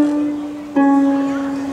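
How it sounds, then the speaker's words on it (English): A harp string is plucked with bare fingertips and no fingernails, giving a sustained, soft-edged tone. A second pluck sounds partway through, and both notes ring on alone. "if the strings are played without fingernails, it sounds like this one."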